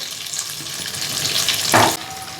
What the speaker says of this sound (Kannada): ನೋಡಿ ಎಲ್ಲ ಅರ್ಧ ಕರಗಾಗಿದೆ ಇನ್ನೊಂದು ಅರ್ಧ ಇದೆ ನೋಡಿ ಎಲ್ಲ ಚೆನ್ನಾಗಿ ಕರಗಿದೆ ಬೆಣ್ಣೆ